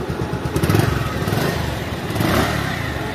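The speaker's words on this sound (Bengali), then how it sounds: "আলহামদুলিল্লাহ বাইকটার সাউন্ড খুবই খেলেছে পাচ্ছেন" The engine of a 2022 Bajaj Pulsar 150 ABS motorcycle runs nearby with a rapid pulsing throb, swelling briefly as it is revved and then easing back over a few seconds.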